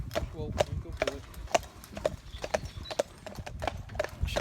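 A working farm horse being retrained after a bolting incident walks with steady, evenly spaced clip-clop hoofbeats about twice a second, close and distinct against low rustling background noise.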